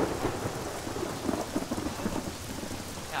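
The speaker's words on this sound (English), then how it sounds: "don't get hit by lightning, it'll kill you" Steady rain with rolling thunder in the military video game Arma 3, a dense continuous wash of downpour with low rumbles swelling underneath, no voices.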